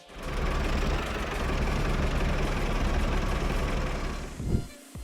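A worn-out tractor engine idles in the video game Farming Simulator 25, a steady, loud, rumbling drone with a rough low-end knock that holds evenly, then cuts off abruptly near the end.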